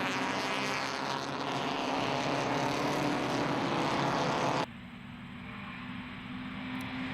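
Vintage MG racing car engines roar loudly as they pass on the main straight at Grattan Raceway, then the sound cuts abruptly to a quieter, more distant engine drone.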